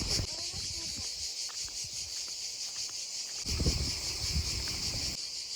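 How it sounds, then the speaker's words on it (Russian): Cicadas chirping near a river in Albania's Karavasta lagoon national park, a steady high-pitched drone running throughout, with wind buffeting and low rumbles underneath. "Цикады, как в Греции у Ставроса, проснулись"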